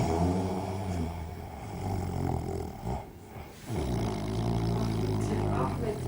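A man snores in long, deep, rattling breaths, a loud rumbling snore, a short pause, then another drawn-out snore, close and unaccompanied by talk.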